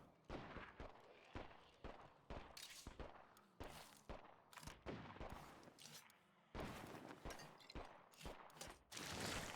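Survivors fire guns at a blood plague feral in State of Decay 2, a rapid series of sharp cracks and thumps in irregular bursts, some closer and louder, with brief pauses between volleys.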